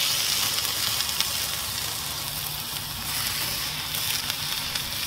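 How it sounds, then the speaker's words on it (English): Bacon-wrapped filet mignon steak sizzling on a Weber kettle grill running around 550–600 degrees, a steady crackling hiss with small pops, close and fairly soft, with no talking. "Can you hear that awesome sizzle?"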